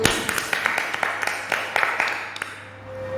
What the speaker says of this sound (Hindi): उसका जोरदार तालियों से स्वागत करते हैं